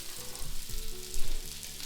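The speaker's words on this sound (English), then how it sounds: "brown the onions as well." Onions browning alongside Korean braised pork ribs in a hot pan give off a steady, close sizzle and frying crackle, with a few soft stirring bumps and no talking.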